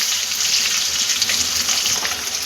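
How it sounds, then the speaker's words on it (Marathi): Stuffed capsicum sautéing gently in a little oil over a low flame, giving a steady close hiss and sizzle that holds evenly throughout with no talking. "हलक्या हाताने हिला फक्त जरासं तेलामध्ये व्यवस्थित परतून घ्यायचं"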